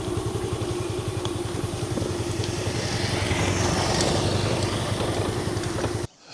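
A vehicle cruising along the paved ring road on the Ometepe Island coast, with a steady, close engine drone and road rumble holding throughout before cutting off abruptly at the end.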